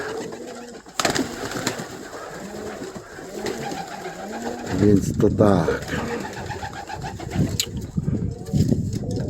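Pigeons coo softly and repeatedly in a loft, with someone talking over them and occasional rustling and wing movement.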